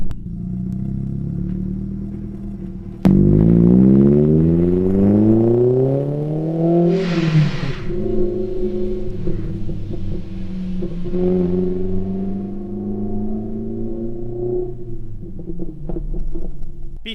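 An Audi 80 fitted with a Ragazzon exhaust, heard from outside: a deep idle rumble jumps into a loud rev that climbs and falls back. Low crackles follow as the throttle is released, then a rough, even idle.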